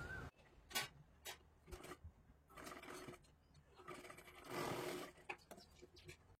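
Sewing machine stitching a fabric sleeve in short repeated bursts of rapid whirring, separated by pauses with handling noise, close and moderately loud.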